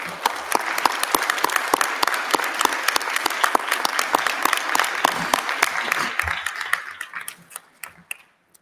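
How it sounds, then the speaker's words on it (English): A crowd applauds law school graduates at a 2020 and 2021 commencement ceremony in Atlanta. Steady, loud clapping lasts around six seconds, then thins out into a few scattered claps as it dies away. "And we should all applaud you."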